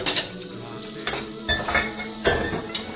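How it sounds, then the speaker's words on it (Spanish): Dishes are washed in a kitchen as a sound effect in a radio drama, with clinking plates and cutlery and soft sloshing in irregular, close clatters. "Mientras Alejandrina friega los platos"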